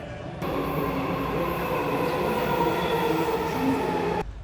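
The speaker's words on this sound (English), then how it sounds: "Back in the metro station." A Washington DC metro train rumbles steadily through a station, a loud continuous roar with faint rail squeal, ending abruptly.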